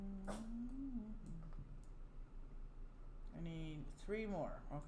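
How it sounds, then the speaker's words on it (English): Pet dog barking like a guard dog: one sharp bark early, then a cluster of yelping, whining barks near the end, a little distant, with a person talking between them. "that is my dog trying to be the most vicious guard dog ever"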